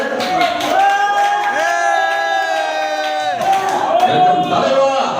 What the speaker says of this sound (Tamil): நல்ல ஒரு கைத்தட்டல் கொடுங்க அண்ணனுக்காக